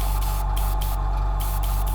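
An airbrush sprays paint in a continuous loud hiss, broken by several brief interruptions as the trigger is worked, with no talk.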